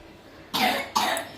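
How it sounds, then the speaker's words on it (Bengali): A child coughs twice, close and fairly loud, with the two coughs coming about half a second apart. Before them there is a quiet room hush, and no one speaks. "আর একজন কাশি কেমন হচ্ছে দেখো, কেমন কাশছে দেখো।"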